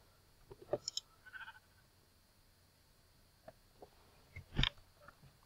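A few short, quiet bleats from sheep in Minecraft on PC, scattered among soft clicks over a faint background.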